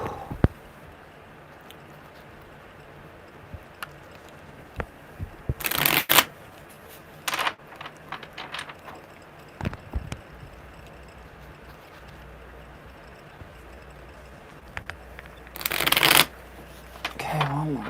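Tarot cards being shuffled during a live card reading, with several short bursts of riffling and shuffling between quieter stretches, under occasional talk.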